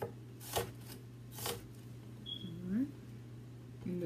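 Knife chopping an onion on a cutting board: two soft, well-spaced chops close by, with light handling noise afterwards.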